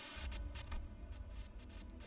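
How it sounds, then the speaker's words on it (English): Crackling radio static inside a truck in the game Limbus Company, with bursts of hissing noise over a low hum, sputtering in uneven pulses. "A sudden buzz of white noise breaks through the truck's silence."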